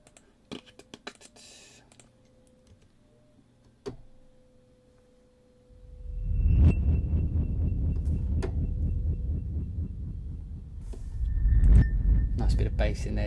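Scrape sounds from the Sample Logic Rumble sound library: scattered clicks and thin scratchy scraping give way to a dense, rumbling, grinding texture that swells, heard alone.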